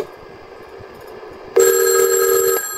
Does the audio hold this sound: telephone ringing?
yes